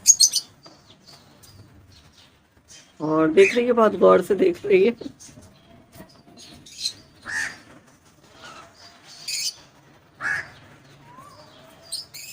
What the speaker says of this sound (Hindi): ये कोयल है, जो कि बोलती रहती है हर वक्त